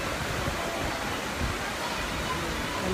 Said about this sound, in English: I love the water, how it's lit, so you can still see the waterfalls as you hear them.